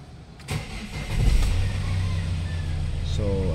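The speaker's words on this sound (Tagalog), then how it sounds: "malakas na malakas yung fuel knocking" A Hyundai Starex engine with a fuel knocking fault cranks and catches, then settles into a loud, close, steady running rumble with a faint voice near the end.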